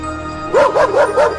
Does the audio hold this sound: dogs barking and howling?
yes